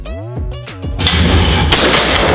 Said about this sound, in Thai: ยูยิงเร็วมากเลยนะเนี่ย